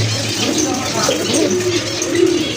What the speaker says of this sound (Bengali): গিয়ারটা কিন্তু একেবারে লাল গিয়ারের কবুতর